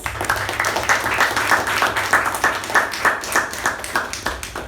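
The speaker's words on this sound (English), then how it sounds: "With a round of applause, please" Members of a communication club applaud at their meeting, a smaller group whose individual claps stand out in a loose, rhythmic patter, close and moderately loud, with a low hum beneath.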